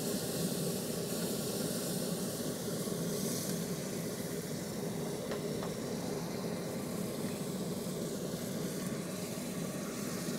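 Sauce mopped onto ribs cooking hot and fast on a smoker gives a steady, dense sizzling hiss that holds at an even level the whole time, with no talking.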